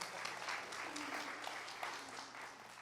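A church congregation claps in scattered, uneven bursts, moderately loud, with a low hum underneath.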